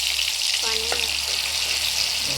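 Masala paste fries in a pan for egg bhaji, giving a steady, close sizzle throughout with a brief stirring clink and a short vocal sound over it.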